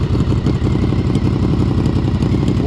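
A Honda VFR 750F motorcycle engine idles steadily up close, a dense, even low rumble with a leaking exhaust adding a slight clatter, running alone without talk.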